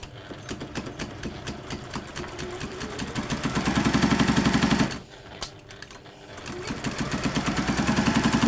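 Sewing machine stitching fabric for a bag with a plain lining, a rapid mechanical chatter in bursts that briefly stops around the middle, then resumes steadily, close and fairly loud.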